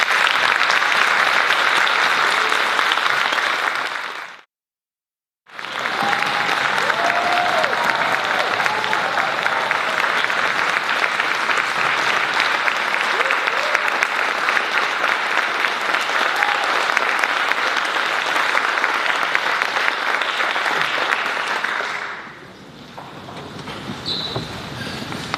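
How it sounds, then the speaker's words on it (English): Loud, sustained audience applause at a school celebration for retiring and departing faculty and staff; dense clapping fills the room, breaks off briefly, resumes strongly and then tapers toward the end. "You're too kind and generous with your applause"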